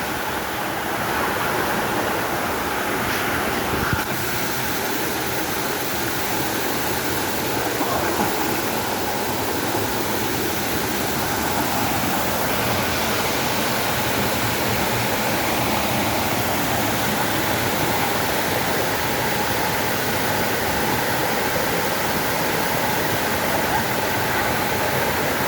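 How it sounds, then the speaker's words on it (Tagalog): Gabong-Gabong waterfall in Cagayan pours in a constant, full-bodied roar, close and loud, with a faint shift partway through but no break in the rushing water. "Sulit dito sa pagpunta namin dito sa Gabong-Gabong Falls."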